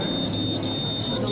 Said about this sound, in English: The wire touches the loop-like structure and the alarm starts ringing.